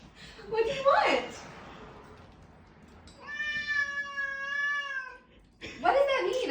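A kitten gives a long, drawn-out meow up close in a quiet indoor room, with short bursts of other cat-like sounds just before and after.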